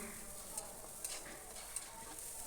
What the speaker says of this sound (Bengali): দেখো আমার পেঁয়াজটা প্রায় ভাজা ভাজা হয়ে গেছে